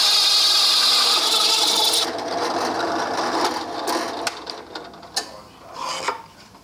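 A saw rasps through wood from the opposite side of a partial cut for a condiment caddy, a steady buzzing stroke for two seconds, then breaking into irregular scraping and knocking as the piece comes free.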